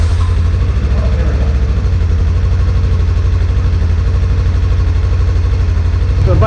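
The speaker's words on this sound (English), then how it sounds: "So the bike's been running for about a minute now" A Kawasaki 454 LTD EN450 motorcycle idling off choke after about a minute of running, a steady, loud, even low putter close by and holding constant.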